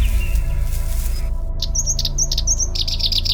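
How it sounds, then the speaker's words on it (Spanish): Birds sing at dawn across the Maasai Mara grasslands, bright chirps and tweets repeating in quick clusters after a short quiet start, fairly near over a steady low rumble of breeze. "el canto de los pájaros se mezclaba con la suave brisa"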